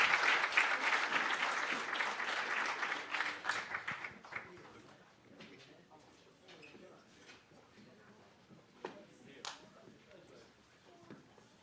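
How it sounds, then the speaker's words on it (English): Audience applause for a panel moderator at a business of sports and entertainment conference, loud sustained clapping that fades after about four seconds into scattered claps and crowd murmur. "can y'all give Javier another round of applause"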